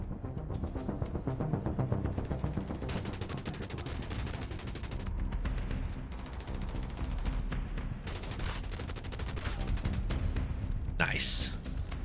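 Rapid gunfire from a turret and weapons with a seeker mine in The Division Resurgence, dense bursts of shots continuing throughout, loud, with someone talking over parts of it.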